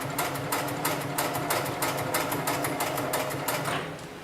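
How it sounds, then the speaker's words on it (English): A single-needle, extra heavy-duty lockstitch sewing machine stitches sling material in fast, evenly spaced bursts of clattering needle strokes, up close and continuous for several seconds before easing off. "I'm going to go ahead and turn this material 90 degrees, set my foot back down and continue sewing."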